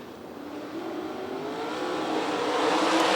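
A pack of 410 sprint cars comes out of turn four toward the green flag at a race start, their engines building into a rising, swelling roar heard from a distance.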